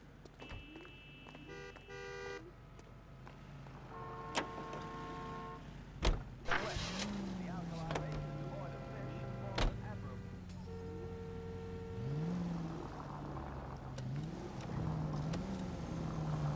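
A car drives through city streets in L.A. Noire, its engine humming and rising and falling, with horn-like tones and a few sharp knocks, while voices talk over the traffic.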